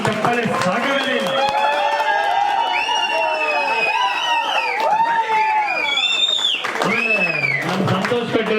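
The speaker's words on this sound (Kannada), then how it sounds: "ನಿಜವಾಗ್ಲೂ ಸಂತೋಷ್ ಶೆಟ್ಟಿ ಅವರಿಗೆ ನೀವು ಈ ಚಪ್ಪಾಳೆ ಸಾಕವೇ ಇಲ್ಲ" Audience applause and cheering for Santosh Shetty at a Lions Club event honouring a motorcycle ride team, a dense continuous crowd roar with clapping and shouts, while a voice speaks loudly over it.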